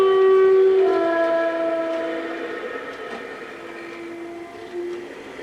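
A Clayton diesel locomotive, D8507 in BR blue livery, hauls a train through Dent station on the Carlisle to Skipton line, its horn sounding a loud sustained chord that gradually fades as the train rumbles on.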